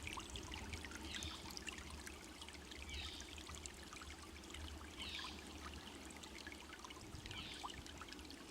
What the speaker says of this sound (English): We're at yet another creek crossing.